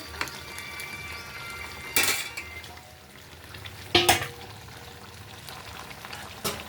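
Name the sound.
pouring chow mein from a small wok into a big wok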